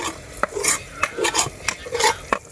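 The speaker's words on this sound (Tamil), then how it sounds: "மசாலா ஊற்றி வச்சு நல்லா கிளறிட்டு போகிறோம்" Stone-ground masala is stirred into a country chicken curry, giving close, rhythmic scraping and sloshing strokes of a spoon against the pot, about six distinct strokes with faint sizzling between them.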